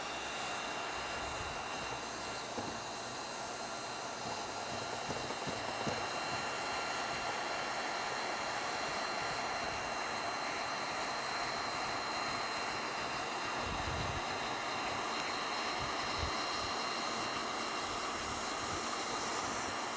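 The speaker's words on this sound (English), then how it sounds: "And finish welding the rest of your target." A continuous loud hiss of welding on a round pipe runs without a break, with faint crackle and low rumbles beneath and no voices.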